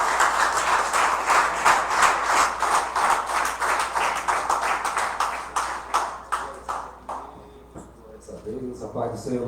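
A church congregation at a family worship service claps to welcome the preacher, with steady rhythmic applause that thins out and fades toward the end while voices continue underneath.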